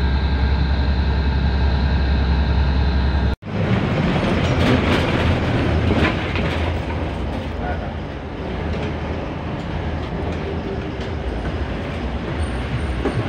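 A loud, steady hum cuts off abruptly, then a close, continuous rumble of an MRT metro train in Manila running with rattling clatter and occasional squeals.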